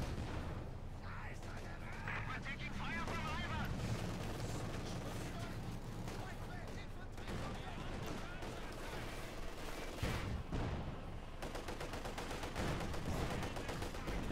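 Video game battle with machine gun fire and 45mm cannon shots: dense, continuous gunfire and booming blasts fill the whole stretch at a steady loud level, with no gaps or quiet moments.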